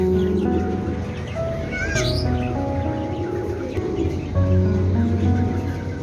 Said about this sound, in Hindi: मेरे पास ये एक कबूतर है जी, बांका और फिरोजपुरी